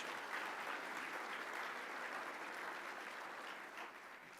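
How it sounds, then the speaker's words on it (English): A room of attendees at an economic forecast event applauds the sponsors, steady fairly distant clapping that holds evenly and then begins to thin out, with no talk over it. "let's give everybody a good round of applause"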